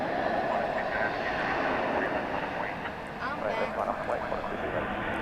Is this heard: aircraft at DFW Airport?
yes